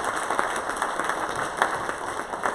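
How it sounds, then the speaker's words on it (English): Steady applause from an audience at a Hindu temple event, a dense wash of many hands clapping at moderate volume throughout, with no voices standing out. "So can we have a round of applause for Virenbhai?"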